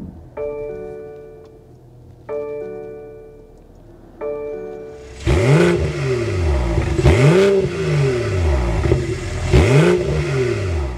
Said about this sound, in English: start up this twin power turbo so you can hear that exhaust note.